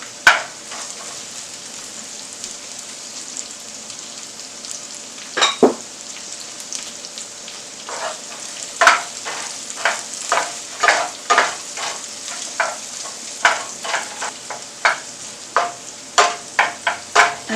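Onion and Brussels sprouts fry in a pan with a continuous sizzle, while spoon strokes scrape and stir in an irregular, increasingly rapid series of crisp, close knocks with no talking.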